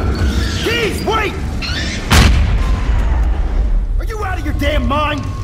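A grenade blast in the sci-fi shooter Aliens: Colonial Marines, one loud sharp boom midway with a rumbling tail, set amid game sounds, with robotic chirping tones before and after.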